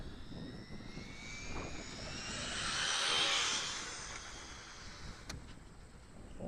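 Radio-controlled car fitted with a Radiolink CL9030 ESC, motor run at full throttle on a road, a rising high whine that swells toward the middle and fades back as the car passes, heard outdoors with no talk.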